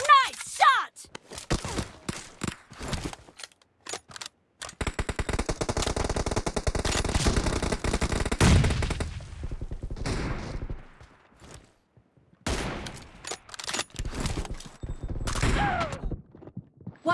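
Gunfire in the mobile battle royale game BGMI: bursts of rapid automatic fire and single shots, loud and close, broken by short quiet gaps and a few footsteps.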